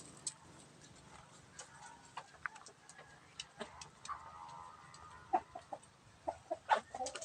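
A Rhode Island Red hen and native chickens cluck softly in a layer coop, scattered low clucks and short calls over faint background noise, fairly quiet and at moderate distance.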